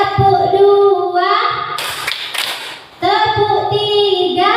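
A class of children claps together in a counted clapping game led by a teacher, with a burst of sharp, overlapping claps for about a second between stretches of an adult voice talking.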